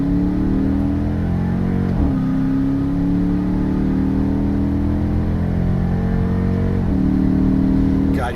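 A Dodge Charger with a cold air intake accelerates in sport mode, its engine droning steadily up in pitch, with two quick transmission upshifts marked by brief dips before the revs climb again.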